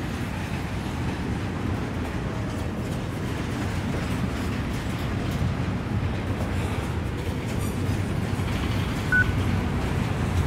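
A moving train in Final Fantasy XV, heard as a steady rolling rumble with a faint rhythmic clatter, continuous and fairly loud throughout with no talk.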